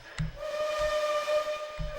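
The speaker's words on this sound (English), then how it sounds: "Got that little hooter whistle." A small hooter-type steam whistle on a Reading T-1 4-8-4 Northern locomotive in Trainz 2019 sounds one steady, clear tone for about two seconds, above a low hiss and rhythmic chuffing with no talk.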